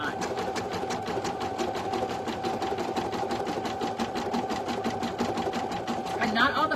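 An embroidery machine stitches an in-the-hoop mug rug, its needle hammering in a fast, even rhythm of steady close clicks that runs throughout, with a voice talking over it.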